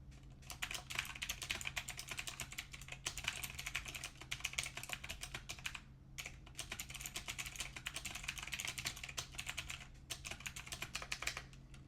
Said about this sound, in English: This is what a mechanical blue switches sound like.